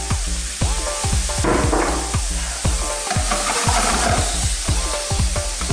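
Prawns fry in a touch of sesame oil in a pan, giving a steady close sizzle with bursts of crackle and occasional stirring scrapes, and no talking.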